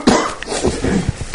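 A lecturer coughs in a lecture hall, a close, rough burst followed by a few smaller irregular hacks over about a second.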